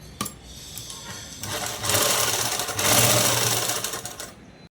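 An electric sewing machine stitches a seam on cloth for a collar-neck dress, a close, loud mechanical whir that starts with a few taps, then runs fast and steady in two longer bursts before stopping, with no talking.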